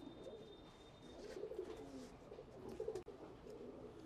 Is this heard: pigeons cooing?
yes